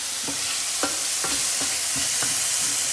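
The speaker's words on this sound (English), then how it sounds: "So we're just gonna cook that over, let the onions sweat, let the garlic roast, let your peppers soften." Onions, garlic and peppers fry in oil in a pan with a steady close sizzle, broken by regular scraping strokes of stirring about twice a second, with no voices.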